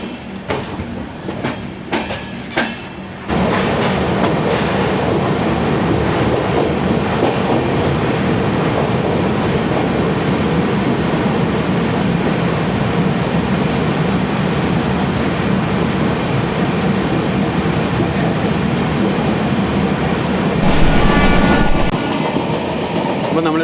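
Duronto Express train running, heard from inside an AC 3-tier coach: a steady, loud rumble with rhythmic wheel clatter that swells after the first few seconds and continues throughout, with a brief louder passage near the end.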